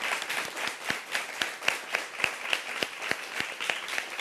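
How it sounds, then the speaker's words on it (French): An audience on a French-language talk show set applauds, a moderate crowd clapping steadily with a few sharper individual claps standing out in an uneven rhythm, no voices over it. "mesdames, des acclamations pour Mouna"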